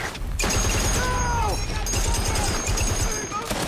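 Sustained machine gun fire in a World War II Pacific battle scene, a dense continuous rattle of rapid shots, loud and close, with voices shouting over it.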